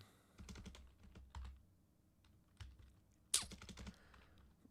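Clicky computer keyboard keystrokes come in short irregular bursts with pauses between, close and fairly quiet, ending with one sharper clack and a final quick run of taps.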